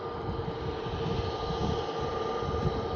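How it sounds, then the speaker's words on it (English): A Scandinavian Airlines Airbus A320neo taxis at Manchester Airport, a steady, moderately distant engine roar and whine holding constant throughout, without voices. "It's a Scandinavian Airlines Airbus A320neo."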